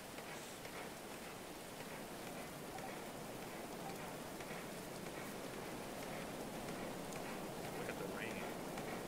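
Steady rain falls in the medieval colony-building game Going Medieval, a soft, even patter and hiss that stays constant and faint the whole time, with no other sounds rising above it.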